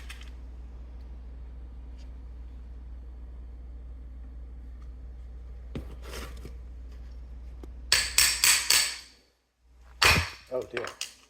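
A hammer striking a nail bar to drive carpet tack strip nails beside tile: a low steady hum, then two quick clusters of sharp metallic blows, loud and close, separated by a short silence.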